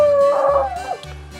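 A dog gives a short whining howl and yip near a backyard grill during a chicken cooking session, loud at first then trailing off into low background noise.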